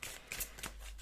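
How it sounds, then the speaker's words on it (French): Large oracle cards shuffled by hand, a soft, close riffling and sliding of card stock in a few quick brushing strokes, faint and without speech. "Je n'arrive pas à mélanger comme ça, elles sont trop grosses les cartes"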